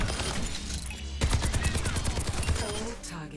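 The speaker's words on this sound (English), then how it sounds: "activate your tactical visor and destroy the twin bots" Soldier 76's rifle in the Overwatch video game, fired with the tactical visor active, lets out a rapid stream of evenly spaced shots against training bots, loud and sustained over steady game background.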